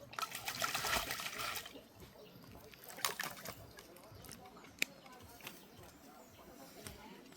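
A crow bathing and splashing in water, with bursts of close splashing and trickling that fade to quieter dribbles, while people talk softly in the background.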